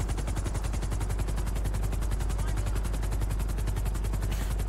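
Helicopter in GTA 5 Online: a steady, loud rotor chop with rapid, even blade pulses and a deep engine drone running unbroken, close and alone with no talk.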